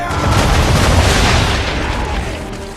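Ship cannons fire in Assassin's Creed 3, producing a loud, deep boom that rumbles and slowly fades over about three seconds.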